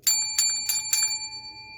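A bright bicycle-style bell rings four quick times, the clear metallic tones close and loud, each strike ringing on and fading alone.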